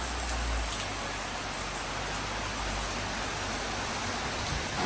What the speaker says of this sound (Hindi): और गोवा में बहुत जोर शोर से बारिश हो रहा है।